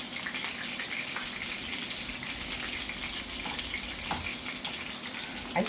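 Veal frying in very hot oil gives a steady, dense sizzle with steam that stays loud and even throughout, and a few small pops rise above the hiss.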